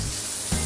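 Water spraying from a tap left running in a preschool cartoon, a steady broadband hiss that swells slightly louder partway through, heard alone.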